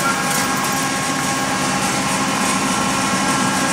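A steady, close engine drones loudly and evenly, its RPM being raised gradually from idle around 600 toward 700, with no voices heard.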